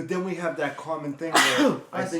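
A single sharp sneeze bursts out mid-conversation, close and loud, with people talking just before and after it.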